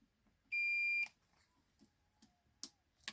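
One steady electronic continuity beep from a multimeter testing a faulty Dyson HD hairdryer, about half a second long and clear, followed by quiet clicks and light handling noises.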